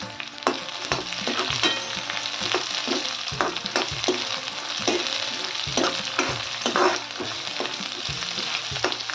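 Peanuts fry in a hot pan for a green wheat khichdi, a constant crackling sizzle broken by rhythmic spatula scrapes and knocks against the pan, close and without speech.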